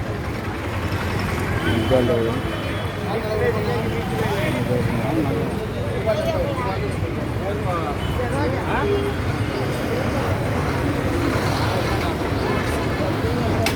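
Busy street at Kadapa's old bus stand, where flowers are sold in heaps: steady traffic rumble from buses and engines under a murmur of crowd noise, while someone talks throughout near the microphone.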